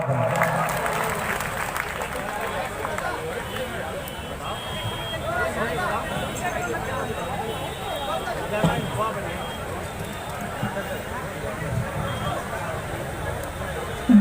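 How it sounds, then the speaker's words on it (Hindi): Audience applause welcoming a poet onto the stage at an all-India kavi sammelan poetry gathering in Lakhimpur Kheri, a steady wash of clapping from a large seated crowd that carries on for the whole stretch with murmuring voices mixed in. "आप लोग जोरदार तालियां बजा करके उनका अभिनंदन कीजिए"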